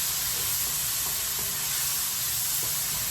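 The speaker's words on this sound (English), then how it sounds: "I'm going to stir fry this a little bit. Let those onions cook up." Onions stir-fry in a pan over medium-high heat, giving a steady, close, bright sizzle throughout with a few faint taps of the utensil underneath.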